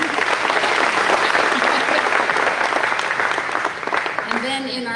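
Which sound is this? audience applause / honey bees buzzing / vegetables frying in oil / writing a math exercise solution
audience applause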